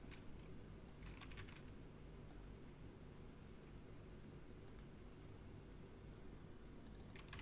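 Computer keyboard keys tapped in steady, fairly quiet bursts with brief pauses over a low background hum, while entering data into an Oracle Apex form.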